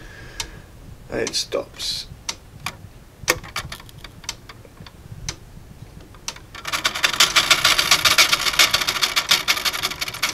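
A 3D-printed eight-day clock with lantern gears and weights driving the drivetrain ticks in uneven, irregular clicks that falter. A voice speaks briefly, and a dense hiss swells in the last few seconds.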